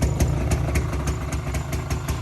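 An abandoned Polaris Scrambler 400 ATV with a two-stroke engine runs at a steady idle, close and loud, with a rapid, even pulsing throb.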